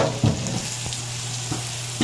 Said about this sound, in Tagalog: nilalagay na po yung sibuyas